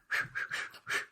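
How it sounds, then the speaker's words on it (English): A person whistles a short tune in a few bright sustained notes, clear and close, with no talking. "That's me whistling."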